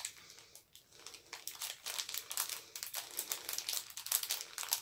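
A gift box of tea being unwrapped up close, with continuous crinkling and rustling of paper or plastic wrapping in quick, uneven bursts.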